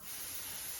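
Spray baste adhesive hisses steadily from a can onto a quilt, a brief faint airy spray with no break, heard alone.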